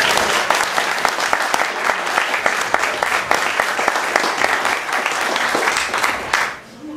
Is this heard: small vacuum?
no